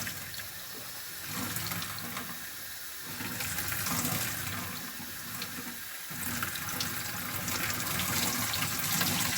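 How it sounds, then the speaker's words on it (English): Tap water runs steadily into a kitchen sink, rinsing cooked sausage meat for homemade lasagna, a continuous broad splashing hiss that swells slightly louder partway through, with no voices over it. "this is how I normally would rinse off my meat"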